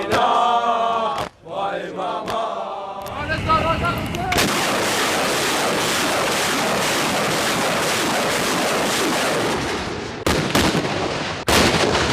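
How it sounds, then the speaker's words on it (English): Missiles launch at the start of a military operation with a loud, sustained roaring rush of rocket fire that follows an opening of voices, then continuous blast noise with a couple of sharp bursts near the end. "Launching missiles is an indication that the operation has already begun."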